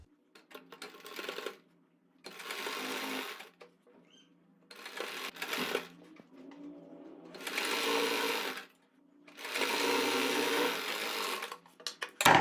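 An electric sewing machine stitches a strip of fabric onto a kurta in several bursts of rapid, steady whirring, each a second or two long and separated by short pauses, moderately close and with no talking.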